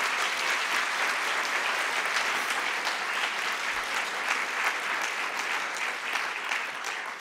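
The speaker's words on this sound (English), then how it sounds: "So can we give them a round of applause?" An audience at a librarian award ceremony applauds in a dense, even wash of clapping that holds steady throughout without any voices on top.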